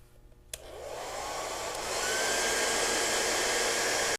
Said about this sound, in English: use our hairdryer and heat up the mastic